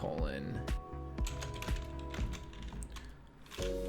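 Typing on a computer keyboard into a search box, a quick run of close key clicks in an uneven rhythm under a low steady background hum.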